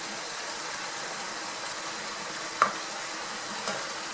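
Carrot, swede and onion fry in a pan while being stirred. The sizzle is steady and moderate, with one sharp clack of a utensil midway and a softer one later.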